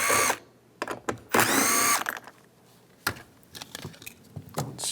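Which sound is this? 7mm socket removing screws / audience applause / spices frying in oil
7mm socket removing screws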